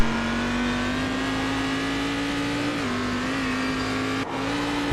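A GT race car at VIR in a racing video game, its engine holding a loud steady drone that shifts slightly in pitch and briefly drops off near the end, with no voices.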